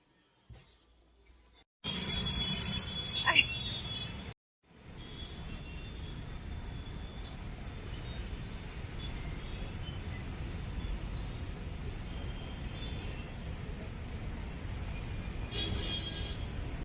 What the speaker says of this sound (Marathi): आपण मेट्रो स्टेशनवर पोहोचलेलो आहोत